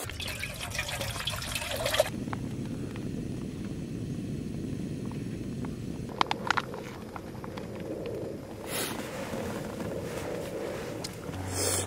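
A pot of food simmers over a camp stove outdoors on a mountain, with steady bubbling and a low continuous hiss throughout, plus a few faint clinks.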